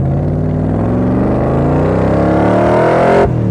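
A 1965 Shelby Cobra Superformance V8 idles and revs steadily, its deep rumbling engine note climbing gradually in pitch throughout, loud and close with no talk.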